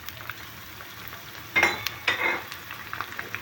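Sliced green chillies dropped into frying garlic give two bursts of sizzling and stirring in a pan, with a low background hiss between them.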